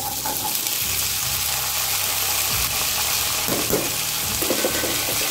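Kidney beans sautéing in a hot pan with curry leaves, giving a loud, continuous close-up sizzle broken by a few scraping stirs; no one speaks.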